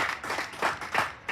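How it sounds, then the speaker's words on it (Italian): Home supporters in the stands of an under-14 youth football match applaud after a goal, a thin scattering of claps swelling in a few waves, heard from a distance with no talk over it. "Applausi"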